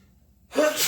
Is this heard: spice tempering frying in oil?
no